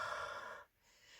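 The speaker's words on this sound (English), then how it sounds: "So I'm going to give it a quick huff" A single quick, close huff of breath blown onto a rubber stamp to moisten its marker ink, a short breathy rush lasting about half a second before fading to near silence.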